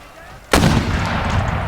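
A regiment's musket volley in the Empire Total War siege battle, a sudden loud booming crack after a quiet moment, followed by a sustained rumbling roar of continuing fire.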